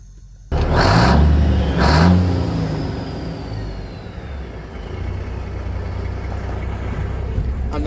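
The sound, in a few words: Detroit inframe engine of Marmon camper truck revving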